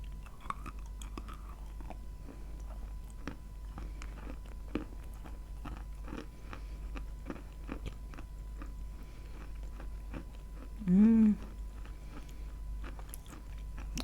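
Someone bites and chews a crunchy, slightly squeaky tomato close to the mic: quiet repeated crunches and wet mastication sounds against a low hum, with no speech.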